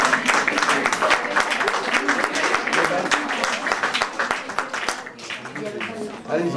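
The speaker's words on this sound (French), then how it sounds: "On peut l'applaudir quand même." An audience at a café show applauds, with clapping that mixes with loud nearby talk and voices over several seconds, the crowd sound staying busy and uneven.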